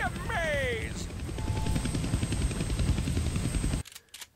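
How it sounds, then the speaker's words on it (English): Helicopter from the Deadpool video game running with a steady rotor drone and whine, loud and continuous under game sound effects and a sweeping tone, cutting off abruptly near the end. "Damn, they found the helicopter's on switch."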